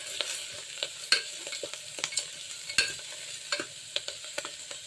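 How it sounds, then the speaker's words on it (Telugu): Amaranth leaves frying in a pan while being stirred, with soft sizzling and scattered scraping clicks of a spoon at an even pace, close and fairly quiet. "ఇది కూడా మంచిగా కొంచెం ఫ్రై చేయాలి. మంచిగా ఫ్రై అవుతుంది కదా"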